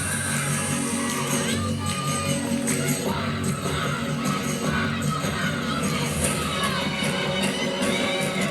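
Crowd at a women's college gymnastics meet, a continuous dense roar of cheering and shouting voices filling the arena at a steady moderate level.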